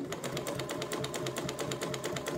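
A sewing machine runs steadily at a slow pace while stitching along the edge of trouser fabric after a few backstitches. Its needle taps form an even rhythmic train, close and continuous, with no voices.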